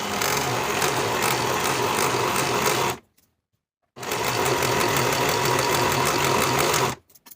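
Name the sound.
sewing machine finishing raw edges of skirt side seams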